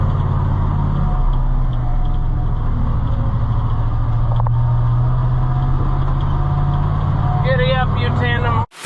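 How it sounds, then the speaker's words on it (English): An old tandem truck's engine runs at a low, steady idle, a deep droning hum that holds close and loud throughout, with a voice briefly heard near the end before it cuts off. "Oh, I think this is a good old truck,"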